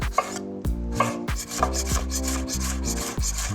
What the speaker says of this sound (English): Next step is to start chopping. Slice it in half lengthwise and cut it into half moons.